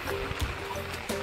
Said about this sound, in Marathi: तर बघा आमची नदी, ढसाई नदी कशी आहे.